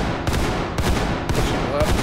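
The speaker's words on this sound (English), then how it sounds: "I'm gonna push flashbang." A nine-banger flashbang in Ready or Not going off as a series of sharp, loud bursts spaced about half a second apart, with dense gunfire-like crackle filling the gaps between them.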